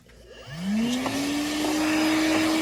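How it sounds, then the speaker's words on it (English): A Milwaukee M12 cordless shop vacuum starts on its low speed setting, its motor whine rising and then holding a steady, fairly quiet hum close by. "This vacuum is much quieter than some of the other small shop vacs I've used, cordless shop vacs like from DeWalt."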